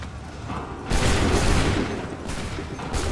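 A musket volley rings out in Assassin's Creed 3, a loud crackling burst of massed gunfire that swells partway through and keeps rolling, with a second surge near the end.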